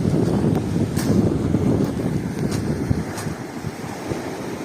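Small sea waves washing near a swimming beach, with soft surf rolling under gusty wind buffeting the microphone and a few faint splashes.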